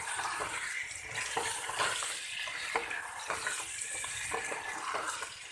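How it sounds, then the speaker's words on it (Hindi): Carrots, peas and potatoes stir-fried with spices in a pan, a steady close sizzle with scraping stirs and light clatter, no talking. "मैंने अच्छी तरह से इसकी भुनाई भी कर ली है मसालों के साथ"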